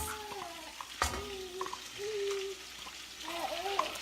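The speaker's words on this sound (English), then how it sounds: "so I'm going to stir this in. We're going to saute our garlic for a minute." Fresh garlic is stirred and sautéed in a pan for Chicken Vesuvio, giving a soft steady sizzle with a spoon scraping and tapping now and then, close up, while a person talks over it.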